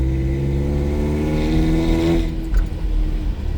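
A 1985 Toyota pickup's 22RE engine revs hard in second gear through a Flowmaster muffler, accelerating with a rising, throaty exhaust roar, then the pitch drops as the throttle eases off.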